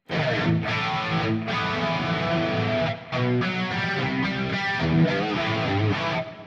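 An electric guitar with heavy distortion and a shimmering chorus effect plays sustained chords and riffs, loud and up close, with brief breaks between phrases.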